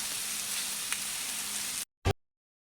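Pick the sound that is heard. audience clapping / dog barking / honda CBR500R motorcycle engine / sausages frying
sausages frying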